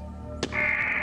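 A crow caws once in the video game Strangeland, a short sharp call cutting in over a steady droning hum.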